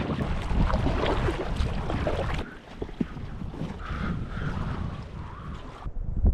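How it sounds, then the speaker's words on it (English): A kayak paddled on remote Lake Eleanor in Yosemite, with steady close water splashing and wash under gusty wind noise, and no talking. "Paddling around on the lake, I got pretty soaked"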